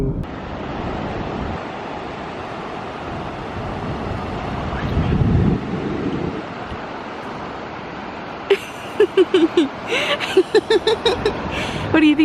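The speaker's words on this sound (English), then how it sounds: "Out there is all the ocean." Ocean surf washes onto a beach at the edge of the continent, a broad rushing wash with wind buffeting the microphone and a surge midway, then sharp gusty bursts toward the end.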